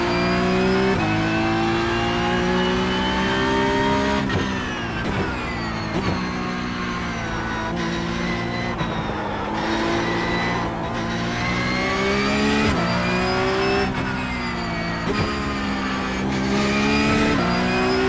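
A Porsche race car in the iRacing sim roars continuously, its engine tone rising and falling through repeated gear changes, loud and close, with no voices.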